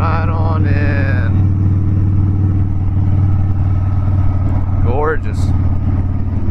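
A Harley-Davidson Dyna Wide Glide motorcycle rides along on a lake trip with a steady, loud low engine rumble throughout, while people talk briefly over it.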